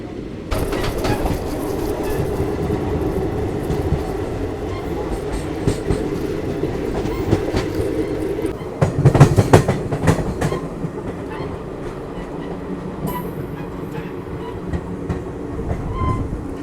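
The Pinakini SF Express pulls out and runs on, its wheels beating a loud clickety-clack from inside the coach over a constant deep rumble, with a burst of heavier clattering midway and no voices.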